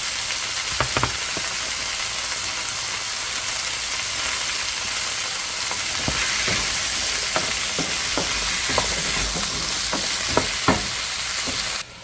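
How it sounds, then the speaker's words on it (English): Vegetables sizzle steadily in a pan on the stove while cooking for a Filipino beef mechado, a continuous bright frying hiss broken by scattered clicks and scrapes of stirring, close up with no talk. "we're gonna be using the same pan to cook our veggies"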